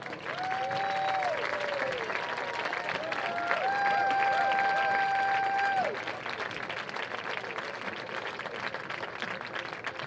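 A crowd at a boys varsity football event applauds award recipients, steady clapping from a distance lasting about ten seconds, with a couple of brief whistle-like tones over it in the first half.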